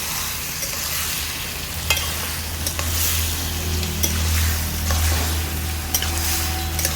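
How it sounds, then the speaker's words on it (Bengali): Boiled bottle gourd sautéed in a pan sizzles steadily while a spatula stirs and scrapes it, with periodic clinks against the pan and a low hum underneath. "লাউটাকে কিছুক্ষণ কষিয়ে নেব।"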